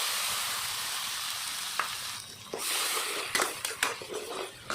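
A spiced mixture being sautéed dry in a pan, with a steady hiss of frying that briefly dips, then returns with a few sharp scrapes and clicks of stirring, close and without speech.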